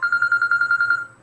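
A telephone bell rings in a rapid repeating electronic trill for about a second, loud and close, then stops, with no talk over it.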